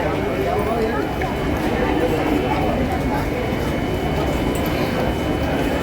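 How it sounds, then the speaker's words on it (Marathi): A local commuter train pulls into a crowded station with a steady, loud rumble of wheels and rail noise throughout, with voices in the crowd mixed in. "हां आले लोकल"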